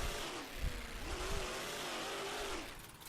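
Monster truck engine in the Rigs of Rods video game revving in a steady mid-pitched drone with rising and falling swells, heard alone at moderate level.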